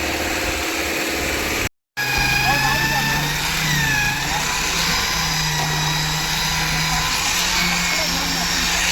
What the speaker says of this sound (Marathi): आर-एम-सीची गाडी आलेली मित्रांनो.